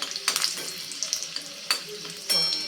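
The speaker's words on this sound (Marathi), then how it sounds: "त्यामध्ये चार ते पाच लसणीच्या पाकळ्या घालून घ्यायच्या आहेत ह्या तेलामध्ये परतून घ्यायच्या आहेत" Four or five garlic cloves fry in hot oil with a soft continuous sizzle, broken by a few sharp scrapes of a spatula stirring the pan, close up and without speech.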